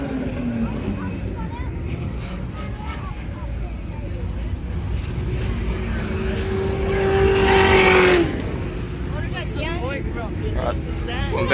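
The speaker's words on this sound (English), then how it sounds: "Some very, very good sounding cars out here today." At a weekend car event, a car drives by close, its engine rising to a loud roaring pass before dropping away, with wind buffeting the microphone and people talking nearby throughout.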